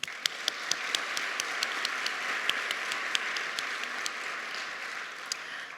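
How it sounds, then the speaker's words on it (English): Applause from an audience at a public library awards ceremony, a steady wash of clapping lasting several seconds with a few sharper individual claps standing out, moderately loud and heard without talk. "So big round of applause."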